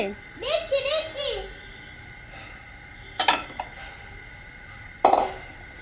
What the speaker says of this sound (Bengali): আগে সসপ্যানটা মাজ।